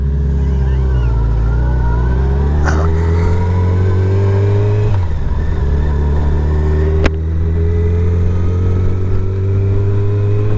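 Yamaha FJR 1300 motorcycle accelerating along a bumpy low fenland road, a loud, steady engine drone rising in pitch as it pulls, close and continuous with a brief dip midway.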